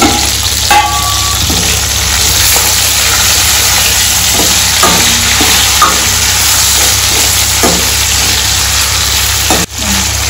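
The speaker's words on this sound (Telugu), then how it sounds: "మనం కరివేపాకు కూడా వేసేసుకుందాము. ఇవన్నీ మనకు ఫ్రై అయిపోయి కదా." Curry leaves and spices frying in hot oil for tamarind rice, a steady crackling sizzle running throughout with a few brief clinks of a utensil, fairly loud and close, with a sharp knock near the end.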